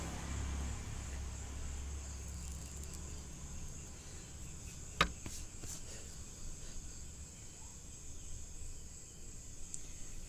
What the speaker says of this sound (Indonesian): Jalur ini sementara banyak truk yang lewat, jadi kendaraan niaga kawan-kawan.